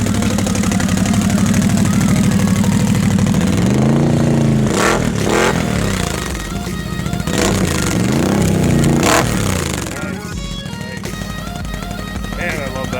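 Someone's new Yoshi motorcycle engine idles steadily and loudly close by, with a few throttle blips rising and falling midway, while people talk over it.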